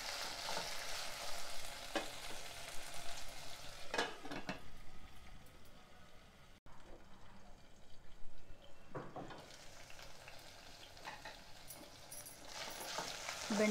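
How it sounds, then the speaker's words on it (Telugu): Sliced onion, okra and drumstick pieces fry in a pan with a continuous close sizzle, broken by a few stirring scrapes and a brief dip in the middle. "బెండకాయలు, ములక్కాడలు ఇలా వేగినాయి కదా"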